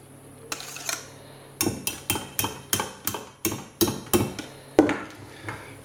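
Chocolate mousse mixture being mixed in a bowl, producing a steady series of about a dozen sharp clinking taps of utensil against bowl in a regular rhythm, close and clear with no talking.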